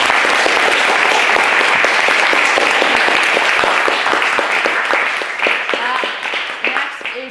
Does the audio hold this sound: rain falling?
no